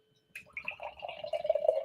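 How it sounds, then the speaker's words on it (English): Peach cinnamon marshmallow sour beer poured into a snifter glass, a close, steady gurgle and trickle of liquid building up for under two seconds after a short silence. "as we pour more in the glass there"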